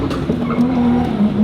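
Tires on a Nissan Silvia S15 squeal in a sustained, steady screech as the car spins a 360 on a concrete slab, with engine noise underneath.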